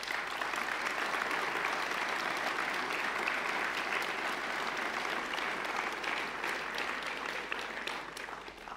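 An indoor audience at a New Year greetings ceremony gives a long, steady round of dense applause, loud and even throughout with only faint crowd murmur beneath.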